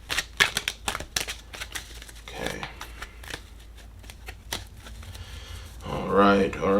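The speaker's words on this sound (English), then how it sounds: "Let's shuffle." Tarot Apocalypse deck tarot cards being shuffled by hand, giving a run of close, crisp riffling and flicking bursts over several seconds, with talk heard toward the end.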